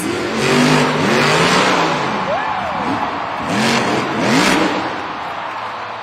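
El Toro Loco, a Monster Jam truck at a full event in Tampa, Florida, revs its engine at a backflip ramp in loud rising bursts, with a crowd and announcer under it.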